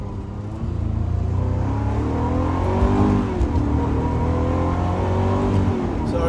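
A Ferrari 355 engine drones loudly from inside the car while it drives. The pitch climbs and falls as it revs through the gears, over a steady road rumble.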